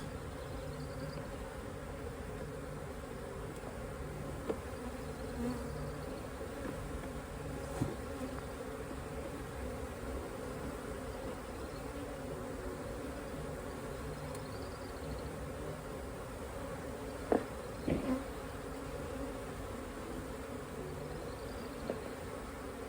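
A steady, dense buzzing of a swarm of honey bees continues throughout around hive frames, with occasional faint knocks and clicks.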